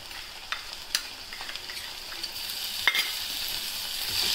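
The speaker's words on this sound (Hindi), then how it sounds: "चलो प्याज भून रहे हैं।" Onions frying in a pan with ginger, garlic and green chilli for an Indian eggplant dish, a soft steady sizzle with a few sharp stirring clicks and spatula scrapes, moderately close and alone.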